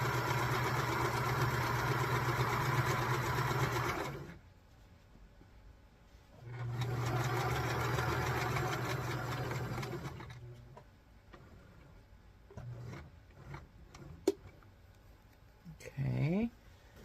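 A sewing machine stitches quilt pieces in two steady running bursts of several seconds each, with a quiet pause between them. Handling clicks and fabric shuffling follow the second burst.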